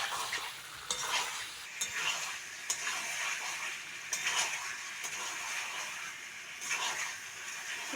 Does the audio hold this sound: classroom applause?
no